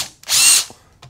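A power drill whines in one short, loud burst as it bores a guide hole into wood for a hedgehog house, framed by faint clicks and handling knocks.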